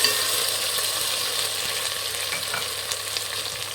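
Finely chopped tomatoes fry in a pan for a wedding-style thin rasam, giving a dense, even sizzle close by with faint stirring, continuous throughout with no voices.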